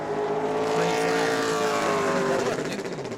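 Pro Late Model race car roaring through a qualifying lap at New Smyrna Speedway, engine loud and sustained with a rising and falling pitch as the car passes, under faint announcer talk.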